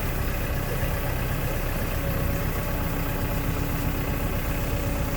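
A lifeboat tractor's engine running at a steady, unbroken rumble, loud and close, with no voices over it.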